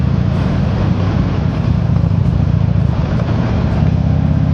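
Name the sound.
1203cc V-twin motorcycle engine riding through tunnel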